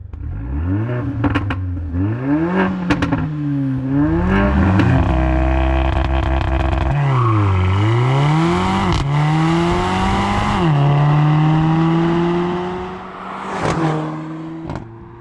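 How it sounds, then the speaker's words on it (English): Old Mercedes-AMG A45 with a 2-litre turbocharged four-cylinder engine revving hard in repeated rising blips, then a long sustained climb through the revs before dropping back to idle, loud and close throughout. "Now let's compare how these cars sound, starting with the old A45."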